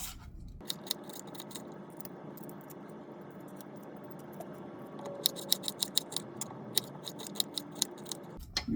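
A knife cuts through vegetables for a tomato pie, giving rapid scraping slices and a string of crisp taps on a board, close and fairly quiet.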